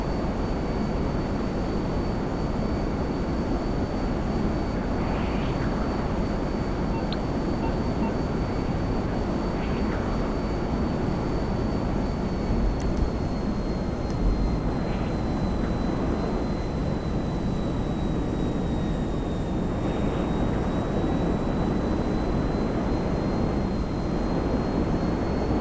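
A fully upgraded plane's engine in GTA Online, a constant loud droning roar with a thin steady whine on top, unbroken throughout.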